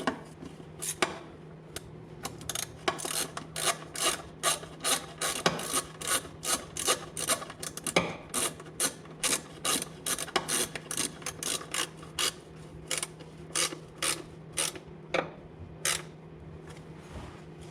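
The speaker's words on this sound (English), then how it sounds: "start from the inner bolts and nuts to the outer to get a solid seal" A hand ratchet tightening bolts and nuts on a B20B engine in an EF sedan during a gasket change, making rapid repeated clicking bursts in quick strokes with brief pauses, close and clear.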